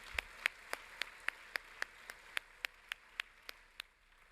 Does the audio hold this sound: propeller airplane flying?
no